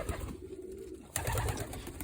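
A female breeding pigeon coos in a loft, with soft low cooing running throughout at close range, louder toward the end, with no talking.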